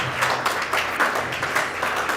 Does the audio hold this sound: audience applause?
yes